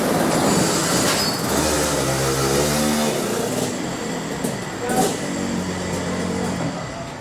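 Racing go-kart engine coming around the track, a steady loud buzz whose pitch climbs and drops as it revs through corners, holding close throughout with a second rise near the end.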